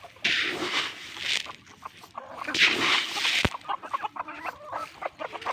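Free-range country chickens cluck and call in repeated bursts at close range, the busy layered clucking rising and falling throughout with a sharp knock partway through and no speech.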